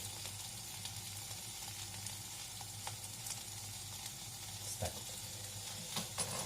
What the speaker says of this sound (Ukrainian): І не забуваємо помішувати лопаткою.